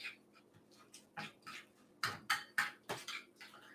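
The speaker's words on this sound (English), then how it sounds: "Then we're going to just stir that up." A spoon stirs roasted vegetables in a marinade in a bowl, giving a series of soft, close clinks and scrapes in an irregular rhythm, quiet and alone.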